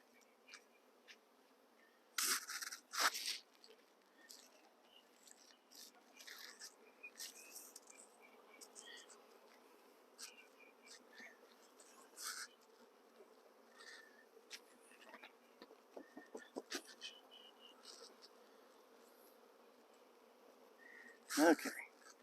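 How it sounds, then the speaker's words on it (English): Honey bees from a captured swarm in a hive box give a faint, steady buzzing hum, broken by scattered sharp knocks and handling noises near the box. "sweep the relatively few bees that are in this top box down"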